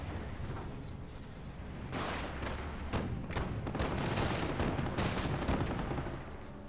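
Autocannon fire rattles in a Company of Heroes 1 battle, rapid repeated bursts of gunfire at moderate, somewhat distant volume amid background battle noise.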